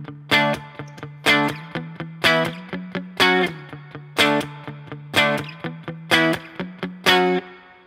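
Distorted electric guitar strumming the power-chord chorus of a song in a repeating, punchy rhythm, loud and close, with short muted strokes between the accented hits.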